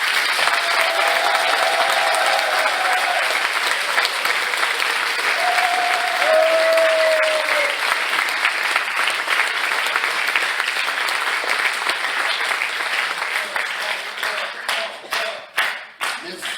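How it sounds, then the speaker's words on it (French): Audience at a comedy show applauds on cue, a dense and loud wall of clapping that holds steady and then thins into scattered final claps near the end. "nous allons une dernière fois faire le test d'applaudissement au décompte de 3"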